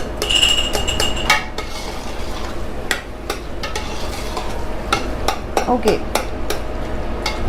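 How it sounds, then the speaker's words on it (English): Cooked eggplant being mixed and mashed for caviar d'aubergine, with repeated soft utensil scrapes and taps against a bowl over a steady low background, close by; a brief spoken word near the start. "so just mix it well so they can get in a mashed form like this."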